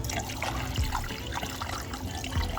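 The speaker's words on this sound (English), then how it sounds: "then I'll fill it up with water the rest" Water pours steadily into a container while refilling a 1978 Batavus bike, a close, continuous trickling splash with no talk.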